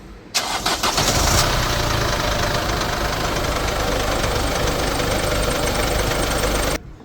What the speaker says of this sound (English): Okay, start the engine up.